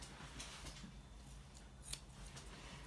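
Scissors snip through a Havanese dog's coat during grooming, a run of quiet, close, crisp cuts at an uneven pace over faint background hiss.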